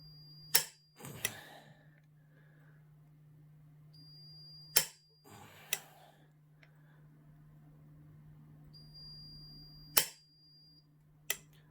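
A torque wrench clicks sharply as a fastener is tightened to 100 foot-pounds, a handful of isolated loud clicks spaced seconds apart over a low steady electrical hum.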